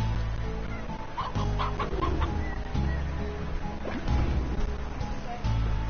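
In Slime Rancher, chickens cluck in short scattered bursts, mixed with thuds and smacks of game action at moderate loudness.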